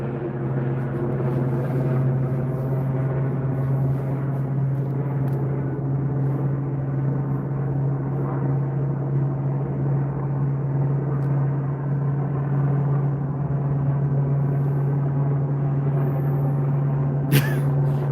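Albuquerque police aircraft flying overhead at night, a steady droning hum that holds at an even level throughout, with a brief sharp click near the end.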